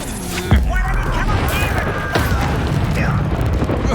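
An Expulso blasting spell in Hogwarts Legacy goes off with a sharp boom, followed by more crashing impacts and whooshing spell effects amid combat noise.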